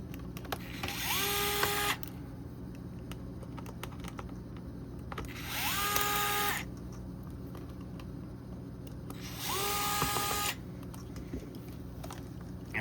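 Four screws being driven out of a Denso radio head unit from a 2012–2013 Toyota Highlander with JBL touch-screen, faceplate already off; three separate bursts of a small power driver whirring, each about a second long, with quiet hum in between.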